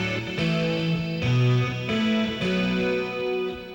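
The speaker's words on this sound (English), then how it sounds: "then I use another amp that's a dumble amplifier" An electric guitar played through a Dumble amplifier with a dirty rhythm tone, sounding a series of sustained, overdriven chords that change every second or so, loud and close with no talking.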